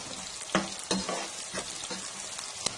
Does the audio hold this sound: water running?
no